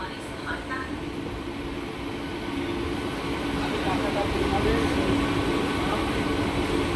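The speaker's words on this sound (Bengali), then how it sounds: "শান্তিপুর জংশন রেল স্টেশন ছেড়ে যাচ্ছে সকালের রানাঘাট শান্তিপুর কৃষ্ণনগর আমঘাটা লোকাল" A morning local train on the Ranaghat–Shantipur–Krishnanagar–Amghata line pulls out of Shantipur Junction station, a steady low rumble of rolling stock slowly swelling in loudness, with voices talking over it.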